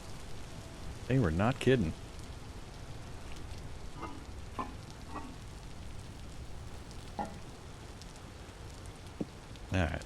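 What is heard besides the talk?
rain in the video game Vintage Story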